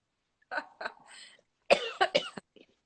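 Several sharp coughs, close by: two quick ones, a pause, then a harsher burst of three, with no talking.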